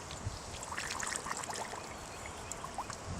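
A car battery fizzes and bubbles after its cells are filled with solution, a faint, steady crackling froth of tiny pops that continues without pause.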